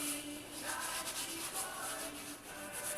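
Silicone is rubbed firmly into the surface of a painting to clean it, a close, continuous soft scrubbing hiss with gentle back-and-forth swells and no talk.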